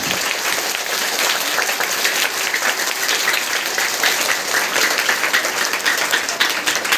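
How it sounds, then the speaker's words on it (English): Steady, dense clapping from a crowd at a school Independence Day celebration as teachers receive a trophy, continuous and even throughout with no voices on top. "Give a big clap."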